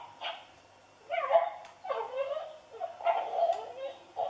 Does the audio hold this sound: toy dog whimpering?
yes